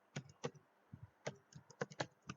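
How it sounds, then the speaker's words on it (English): Quiet, irregular clicking of keys as someone types on a computer keyboard while writing C program code, with soft taps spaced in short bursts. "I am typing"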